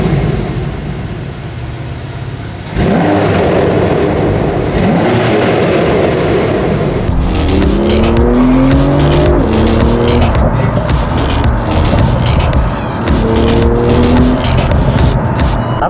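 Four-wheel-drive Porsche 911 with a full Techart exhaust accelerates hard, its engine note rising through repeated climbing sweeps, loud and close with wind buffeting over the top.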